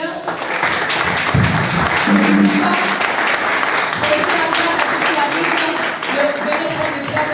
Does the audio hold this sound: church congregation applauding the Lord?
yes